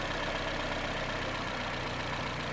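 A warmed-up car engine idling after an injector flush, a steady continuous low hum with even texture, close and unchanging throughout.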